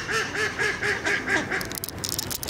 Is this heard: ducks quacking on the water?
yes